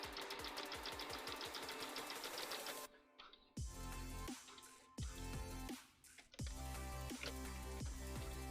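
A sewing machine stitches lace in rapid mechanical bursts, its run halting briefly near the three-second mark and then resuming in several short stops and starts, loud and close with no talk over it.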